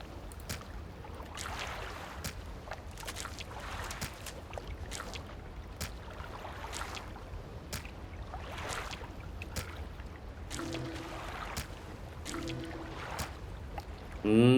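A small fishing boat's engine drones low and steady in the icy waters of the video game Dredge, with faint rhythmic ticks and water texture throughout and a louder burst at the very end.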